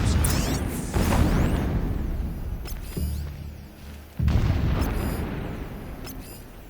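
Loud, repeated blasting explosions from the video game Horizon Zero Dawn, heavy booming bursts that rumble and decay, with a sharp fresh blast near the middle after a brief lull.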